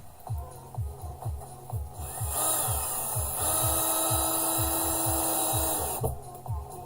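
A power drill countersinking large screws into a giant collage panel whirs in short repeated bursts, then runs in a longer steady grinding stretch before a few more pulses, close by with no talk.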